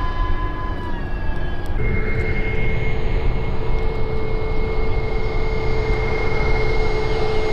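Large RC Boeing 777X model airliner in flight, a steady, loud jet-like whine and roar that holds without pause, with a high tone shifting upward partway through.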